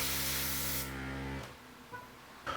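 Airbrush spraying matte varnish onto a diorama base, a steady close hiss that runs for about a second and a half and then cuts off, followed by quiet handling noises.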